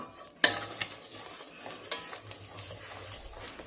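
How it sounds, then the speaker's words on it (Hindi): A coconut dessert mixture made with dried coconut powder being stirred in a pan, a sharp metal scrape at the start followed by soft repeated spoon strokes and gentle sizzling, close and quiet with no talking. "अब इसको चलाते रहना है। ये जैसे अभी थोड़ी ही देर में गाढ़ा हो जाएगा"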